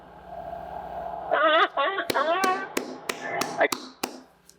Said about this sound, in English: You gotta applaud when it works right.